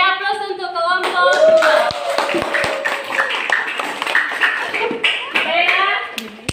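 A classroom group claps for the students who presented, with a burst of uneven, close hand claps mixed with lively children's voices and chatter.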